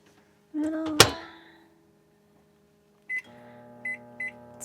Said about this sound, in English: It's been somewhere around 3 minutes to 3 minutes 30 seconds in our microwave, just until the popcorn starts to settle down.